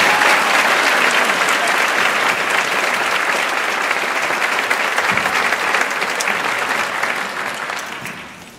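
A large audience at a school staff opening meeting claps in a loud, sustained round that fades out over the last second.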